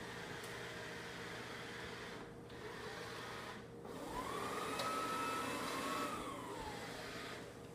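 An ECOVACS DEEBOT M80 Pro robotic vacuum cleaner runs with a steady whirring hum, two brief dips midway, then a rising whine as it swells louder and settles again.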